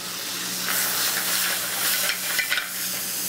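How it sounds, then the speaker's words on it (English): Clams with chopped garlic and fresh basil sauté in a hot pan, giving a bright, hissing sizzle with occasional stirring clinks, close up and without voices. "Now I saute that for about maybe 60 seconds."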